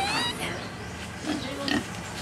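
Pigs grunt and oink a few times at close range in a farm setting, short snorting calls mixed with faint voices nearby.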